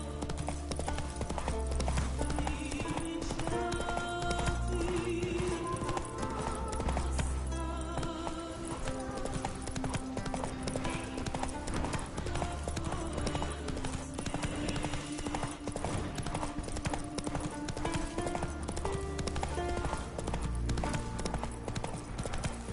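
Hooves of Roach, a horse in The Witcher 3: Wild Hunt, clop in a steady riding rhythm under a continuous, dense bed of game music that lasts throughout.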